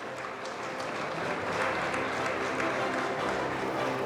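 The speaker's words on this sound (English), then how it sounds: "A big round of applause, please." Audience applause at a convocation ceremony for a rank holder, a dense steady wash of many hands clapping throughout, moderately loud with some crowd murmur underneath.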